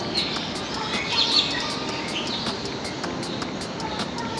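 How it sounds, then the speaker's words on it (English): Birds chirp and call in the gardens of Hong Kong Park, a busy mix of short tweets and calls scattered through the clip over a steady outdoor background, with faint voices in places. "This is just an amazing place for birds."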